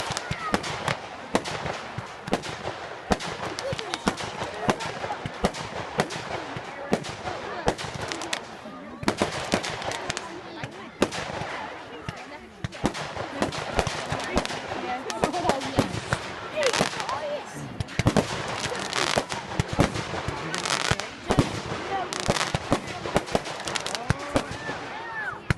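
Bonfire night fireworks crackle and pop in dense, rapid bursts for the whole stretch, like continuous firecracker strings and volleys, loud and close, with people talking at times underneath.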